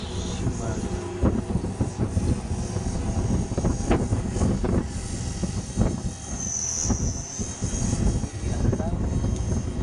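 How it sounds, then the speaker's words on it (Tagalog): A DF60 radio-controlled airplane's electric motor whines in flight on a windy day, rising and falling as throttle changes, with wind buffeting and someone talking over it. "Tingnan mo yung power ng motor eh."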